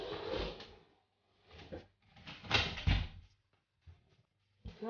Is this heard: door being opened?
yes